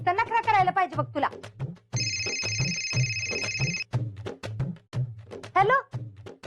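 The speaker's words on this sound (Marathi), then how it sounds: "अगं फोन वाजतोय, काय लक्ष आहे का नाही तुझं?" A telephone bell rings steadily for about two seconds in the middle of a Marathi TV serial scene, loud and close, with people talking before and after it.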